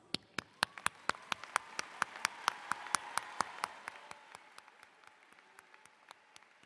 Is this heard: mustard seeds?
no